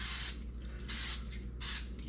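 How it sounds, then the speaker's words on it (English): Three short hissing bursts of cooking oil spray into an Elite Gourmet electric skillet, each about a quarter second, close by over a low steady hum. "I like to put a little bit of spray in there."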